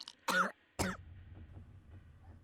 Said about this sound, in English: some of the water had gone down the wrong pipe and I started to cough violently